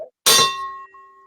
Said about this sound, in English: Hit that notification bell.